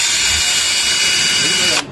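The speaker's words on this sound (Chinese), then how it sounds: "更换一下微壳式的小手电钻，一把可以买到2把国产" A Worx cordless drill whines steadily and loudly at high speed, a close and continuous motor drone that stops just before the end.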